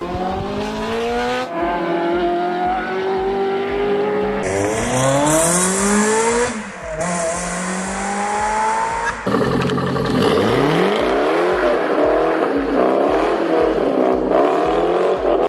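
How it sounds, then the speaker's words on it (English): A BMW P60 V8 engine in an E46 M3 GTR race car roars loudly and continuously, pitch climbing and dropping through repeated gear changes, with brief dips between bursts of acceleration. "the P60 actually sounds more like a classic American V8 than its contemporary European rivals"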